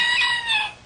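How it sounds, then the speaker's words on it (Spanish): A rooster in the Los Alcarrizos area of the Dominican Republic crows loudly and close by, a single sustained harmonic call that rises slightly in the middle and tapers off near the end. "El gallo dice, Cristo viene clarito"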